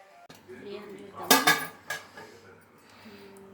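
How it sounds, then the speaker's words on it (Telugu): Metal lid set down on a pot of homemade Telangana-style chicken dum biryani and a weight placed on top, a few clanks and clinks close by, with a voice speaking softly around them. "ఇప్పుడు మూత పెట్టేసుకుందాం, బరువు పెట్టుకుందాం."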